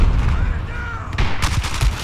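Explosions and gunfire in a Battlefield 4 multiplayer match, with a loud booming blast followed by a sharper burst of bangs and crackling debris, dense low rumble throughout.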